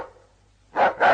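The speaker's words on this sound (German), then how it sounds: "der Tyras, ein Wolfshund aus dem Vorderhaus, sich veranlasst fühlte, auch wieder zu bellen" A wolfhound gives two loud close barks in quick succession after a quiet moment.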